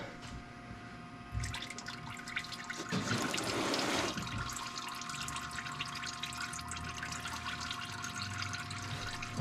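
Engine oil draining from a 2021 Nissan Titan Pro 4X during an oil change, a steady trickle and splash of liquid into a pan that swells briefly, then settles into a constant pour.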